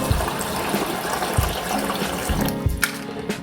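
Warm water runs steadily from a kitchen tap while chickpea skins are rinsed off, a close continuous splashing with a few soft knocks and clinks mixed in.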